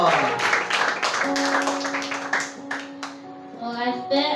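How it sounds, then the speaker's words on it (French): Clapping from an audience at a French-language Sunday school session, a burst of hand claps running through most of the moment with a sustained voice tone over it and a few voices chiming in near the end. "Très bien, acclamons très fort."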